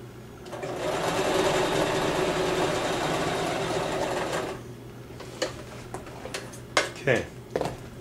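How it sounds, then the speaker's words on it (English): A sewing machine stitches a seam on a homemade puppet, a steady close whir for about four seconds that stops, followed by soft handling clicks and rustles. "I'm going to sew the same amount"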